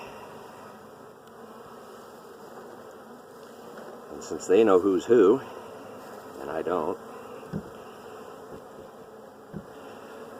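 Honey bees buzz around a hive, a quiet steady hum with louder bursts as individual bees fly close past the microphone, while a person talks nearby.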